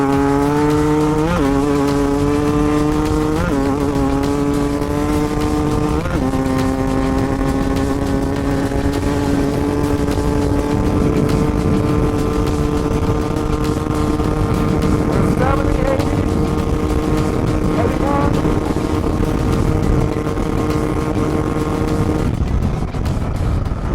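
An electric Stark Varg dirt bike or a KTM motorcycle runs flat out in a top speed test, a loud close continuous whine climbing in pitch in steps before leveling off at a sustained high drone, with no talk.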